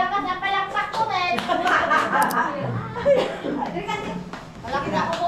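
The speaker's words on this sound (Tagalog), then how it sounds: "Malakas na ako pumalakpak" Loud hand clapping at a family Christmas gathering and high school alumni reunion, mixed with chuckling and chatter from several people throughout.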